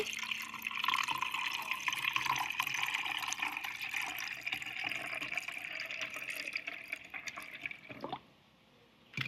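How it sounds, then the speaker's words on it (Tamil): Water pours steadily into a cooking vessel for several seconds, close and continuous, then stops abruptly, while preparing a Tamil-style brinjal curry. "ஒரு பாத்திரத்தில் தண்ணியை வந்து ஊற்றி எடுத்துக்கொள்ளுவா"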